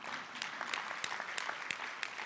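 An audience at a behavioral health legislative forum in King County claps in a brief, fairly quiet burst of scattered applause.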